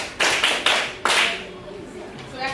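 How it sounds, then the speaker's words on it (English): A group of children in an art class clap for themselves in a few quick bursts of hand claps, close and lively, that soon taper off into a quieter room with faint voices. "Clap for yourselves."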